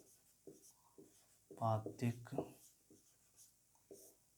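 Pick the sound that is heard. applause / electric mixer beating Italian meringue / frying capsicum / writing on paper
writing on paper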